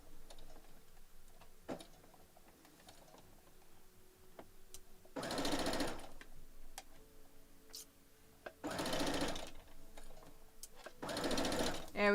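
A sewing machine stitches rows of a quilt block in three loud, steady whirring bursts of a second or more each, separated by quieter ticking and handling sounds, with a little talking between.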